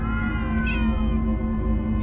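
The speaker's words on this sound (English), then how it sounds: "Ah, many cats, so many cats." Several cats meowing in the Minecraft Story Mode video game, a loud sustained cat cry with a rising and falling pitch, alone without talk.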